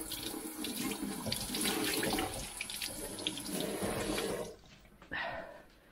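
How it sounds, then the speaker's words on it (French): Tap water runs in a steady, close rush while an item cleaned with bleach is rinsed. The flow cuts off abruptly, then returns in one short splash before ending. "Ça fait un moment, donc je vais rincer."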